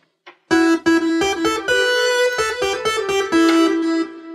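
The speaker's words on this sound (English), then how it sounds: "It's actually the newest one, the version 2 of Omnisphere, which is a really cool new synth." Omnisphere 2 synth layer plays on its own as a loud, bright chordal sequence of repeated rhythmic stabs with sustained tones, stacked above two piano layers in a studio setting.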